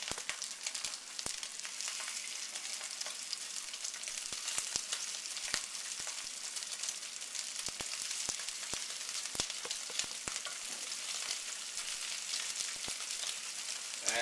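Steady, loud sizzling of steak frying in a very hot pan, a constant hiss dotted with sharp pops and crackles, and no voices.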